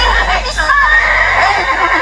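A horse whinnies in a short, wavering neigh close by, heard over a low steady rumble of background noise.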